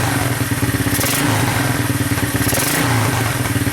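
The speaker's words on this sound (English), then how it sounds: "Sounds really, really good. I've got 2-stroke oil in it, so it's smoking a little bit." A Honda 200SX two-stroke engine runs on two-stroke oil, a loud, close, continuous rattling putter with slight rises in revs and no voices.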